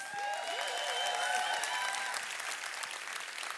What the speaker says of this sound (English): Come on, let's start clapping.